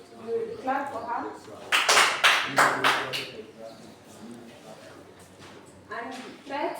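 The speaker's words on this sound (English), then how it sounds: "Clap for her." Students in a classroom clap for a classmate with a short burst of about five sharp handclaps. Teacher speech surrounds the burst before and after.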